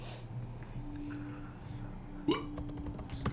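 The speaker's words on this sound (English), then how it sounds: "That was a burp." A single short, faint gulping burp midway through an otherwise quiet stretch with low background hum.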